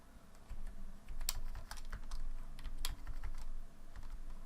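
Rapid keyboard typing, a steady run of light clicks and taps close by, with a few sharper key strikes standing out; no voices.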